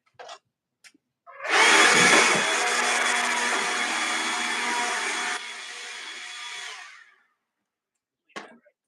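A leaf blower whirs loudly for about five seconds, drops slightly in pitch, then winds down to silence, with brief faint knocks before and after.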